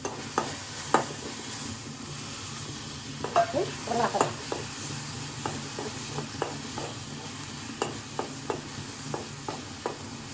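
Potatoes stirring and frying in hot oil in a pan, giving a steady sizzle under repeated scraping and clinking stirring strokes throughout, with no talking.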